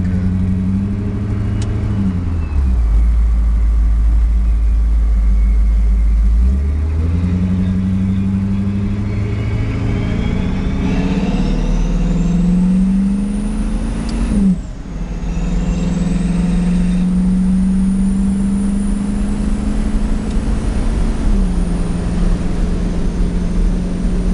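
A work truck engine with a big muffler and centermount exhaust accelerates while merging into traffic at under half throttle, a loud deep exhaust drone rising and falling through several gear shifts, recorded close with no talking.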